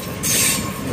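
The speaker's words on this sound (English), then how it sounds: "Same train as it was in the morning." A 10-car passenger train with locomotive 2789 leading passes close by on the B709 service returning to Brunswick, giving a loud rushing roar with high wheel squeal that swells suddenly and holds.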